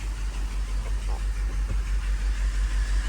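A 1985 Mercedes 500SEC Euro idling low in drive with a misfire, a steady deep engine rumble with a rhythmic, slightly uneven pulsing throb, close and continuous.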